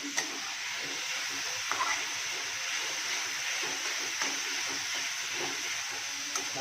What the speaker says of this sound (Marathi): चांगला भाजून घ्यायचा एकदम